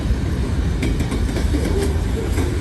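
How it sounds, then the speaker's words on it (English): Freight train boxcars roll steadily past at close range, a continuous rumble with faint wheel clicks and rail clatter, alone with no voices. "Check out those boxcars, Chip."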